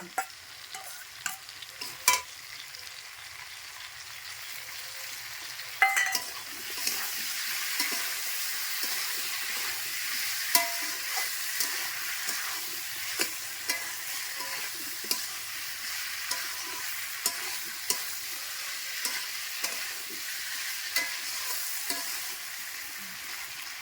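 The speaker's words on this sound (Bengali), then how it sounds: "এই মশলাটার মধ্যে হচ্ছে লঙ্কা বাটা, আদা বাটা, রসুন বাটা, পেঁয়াজ বাটা, একটা পেঁয়াজ দিচ্ছি, আর এটা হচ্ছে জিরা বাটা দিয়ে কষাবো" A ground paste of chilli, ginger, garlic, onion and cumin sautés in a pan with a steady sizzling hiss and repeated spatula scrapes and taps throughout, close and continuous.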